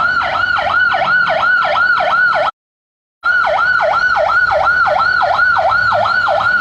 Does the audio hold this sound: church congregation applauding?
no